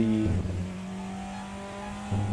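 A race car engine revs hard through a long second gear, a near, loud tonal drone with a brief dip early on, then a sustained steady pitch before the roar swells again at the end.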